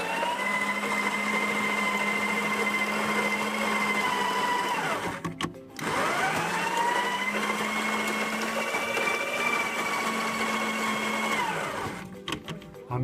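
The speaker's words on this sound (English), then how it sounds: "Okay, we're going to grind our coffee." A coffee grinder beside a Briel two-group espresso machine grinds beans at a medium setting in two long, loud, steady whining bursts, each cutting off with a brief drop before starting again.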